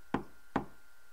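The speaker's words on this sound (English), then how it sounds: "A knock sounds from the door." Two sharp knocks on a door in the Steins;Gate visual novel game, spaced about half a second apart, crisp and close against a quiet background hum.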